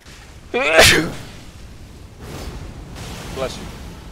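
A single sharp sneeze bursts out near the mic, followed by quieter breathy noise and a faint second sound.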